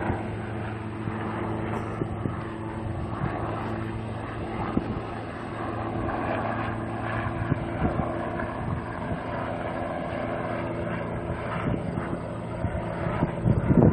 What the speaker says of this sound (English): Plane's still circling.